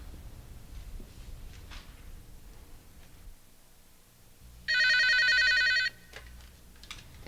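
Telephone ringing in a 1988 Korean TV drama, one bright electronic trill lasting about a second, loud and close in an otherwise quiet room.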